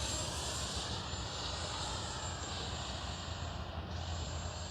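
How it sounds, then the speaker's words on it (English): An FMS F-16 64mm electric ducted-fan RC jet flies overhead at a morning sortie, making a steady, moderately distant whooshing drone with a faint high whine that sags briefly near the end as it passes. "Oh, good little F-16 right here now."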